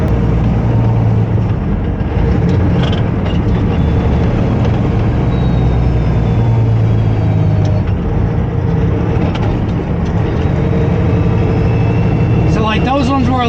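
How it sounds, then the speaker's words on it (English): A semi truck's heavy diesel engine drones loudly and steadily as the driver works through gear changes on an 18-speed manual transmission, while someone talks over the engine throughout. "I'll just use the clutch to pop it out and then put it into the next gear"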